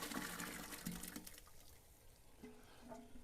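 Onion water tipped from a container into a cooking pot for backyard BBQ hash, heard as a soft, quiet continuous pour with light splashing and a few faint clinks. No one speaks.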